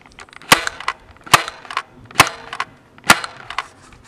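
Nerf Alien Menace Voidcaster blaster firing foam darts, four sharp snapping shots spaced about a second apart, each followed by a brief rattle of the mechanism, close and fairly loud with no talking.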